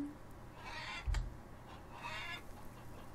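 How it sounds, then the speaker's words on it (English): Chickens in the farming video game Farmers Dynasty give a couple of short, faint clucks and squawks over a quiet background, with a brief louder bump midway. "That didn't sound like a happy chicken."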